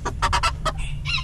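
A rooster held in a small cage clucks in a quick series of close, loud bursts, with a steady low background hum beneath the calls.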